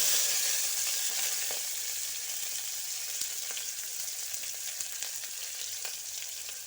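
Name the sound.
green chillies and onions frying in a pan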